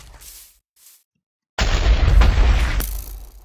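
A loud, booming Minecraft explosion bursts in after a moment of near silence, rumbling heavily for over a second before tapering into a softer crackle.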